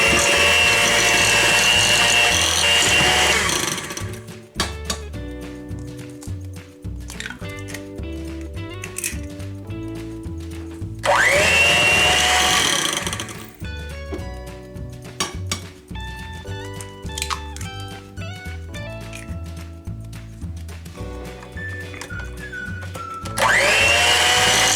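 An electric mixer beats eggs into keto chocolate cake batter for a bacon maple bourbon pecan cake, sounding in three loud whirring bursts separated by stretches of music playing throughout.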